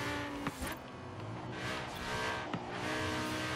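An Audi R8 drives along back roads in Forza Horizon 3, heard from the interior view: a steady engine drone holding throughout, with a couple of brief clicks and a faint tire squeal.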